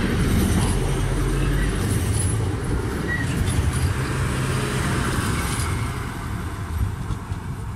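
A Regio passenger train on the Szczecin Główny to Kołobrzeg route pulls into a station near Goleniów, a loud, steady rumble of wheels and motors that holds throughout and eases slightly toward the end.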